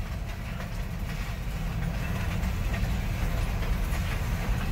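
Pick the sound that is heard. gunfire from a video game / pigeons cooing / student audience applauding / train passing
train passing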